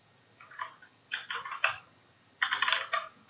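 Keys clatter on a computer keyboard in short clustered bursts, three quick runs of close, crisp taps with brief pauses between, heard alone.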